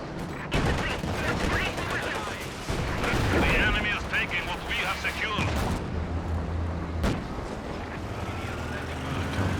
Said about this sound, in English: This walking Stuka is so far very, very effective.